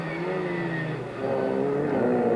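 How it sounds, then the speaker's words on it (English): A rally car powers up the Stelvio Pass hairpins during the 1992 Mitsubishi Classic Marathon, its engine note rising steadily and loudly as it accelerates, with a brief dip before climbing again. "Through the hairpins, accelerating up the climb."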